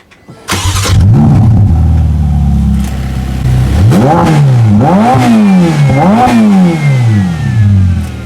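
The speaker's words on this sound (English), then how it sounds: "Take a listen to the exhaust note in race mode." A Ferrari F8 Tributo's V8 fires up in race mode with a sharp bark, settles into a loud idle, then delivers several close, aggressive throttle blips that swoop up and fall back in turn.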